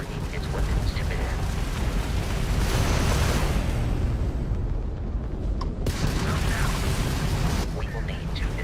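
Crimson Fleet ship weapons firing in Starfield space combat, a loud continuous roar of blasts and rumbling explosions that fades briefly and then surges back in.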